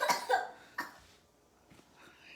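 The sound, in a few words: person coughing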